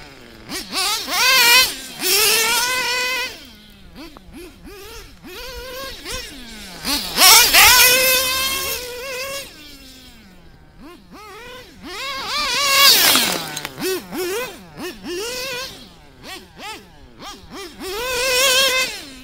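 A nitro RC engine revs in repeated rising and falling bursts, loud and close, with a sharp knock as a rock strikes the flywheel amid the whining throttle swells.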